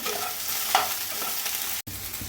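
Salted okra stirred and roasted in a hot pan, giving a loud, close crackling sizzle with stirring scrapes that cuts off sharply for a moment before resuming.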